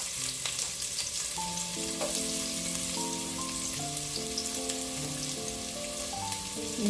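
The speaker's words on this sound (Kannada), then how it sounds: "ಈರುಳ್ಳಿ ಹಾಕಿ ಬ್ರೌನ್ ಆಗುವವರೆಗೆ ಇದನ್ನು ಫ್ರೈ ಮಾಡಬೇಕು" Onion frying in hot ghee for a Mangalorean fish dish, a constant close sizzle and hiss running beneath a gentle melodic music track, with no one speaking.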